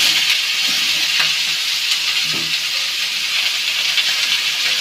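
Ash gourd pieces hit hot oil with cumin seeds in a pan, giving a steady, loud sizzle and frying hiss throughout, with a few soft stirring clicks and no talk.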